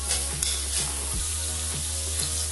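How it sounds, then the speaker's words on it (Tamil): Mushroom Manchurian stirred in a hot pan with onions, a steady close sizzle with soft scrapes of the spoon recurring every half second or so, no voices. "இப்போ நல்லா கிளறி விடுங்க."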